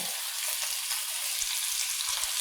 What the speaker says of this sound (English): I have this over medium heat. And we're just going to brown this meat off a little bit.